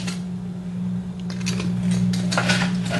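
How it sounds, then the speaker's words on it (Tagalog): Roasted beef bones moved into a slow cooker, making clattering knocks and scraping clinks of bone against the pot over a steady humming drone, with no talking. "ita-transfer lang natin yung ating ni-roast na beef bones dito sa ating slow cooker"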